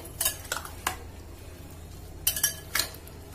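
Utensil scraping and clinking against a bowl while chicken pakora ingredients with green chilies and coriander are mixed, a few sharp metallic clicks in two short bursts over quiet room background.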